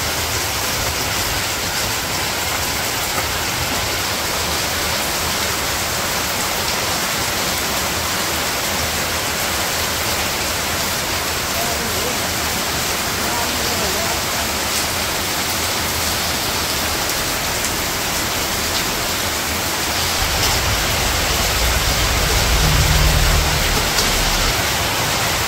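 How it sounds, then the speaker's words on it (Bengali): Heavy rain pours steadily in a Bangladeshi village during outdoor cooking, a loud, dense, unbroken hiss that swells slightly toward the end, with no talk. "ঘরে যাও বৃষ্টিতে নামে না"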